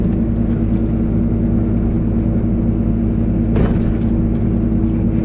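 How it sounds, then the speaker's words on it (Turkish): A cargo truck descends a hill with its engine brake set to two stages, giving a loud, steady low rumble and drone that runs throughout with one brief rattle near the end. "Motor frenini çekelim. İki kademe."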